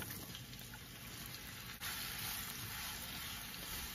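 Onions dropped into hot oil with cumin seeds in a preheated pan on medium heat, giving a steady, fairly quiet sizzle that grows slightly louder partway through, with no talking.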